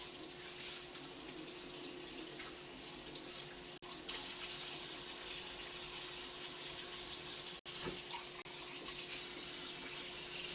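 A tap runs steadily into a sink as something is washed off under the stream, a constant close rushing of water with two brief breaks in the flow and no talking.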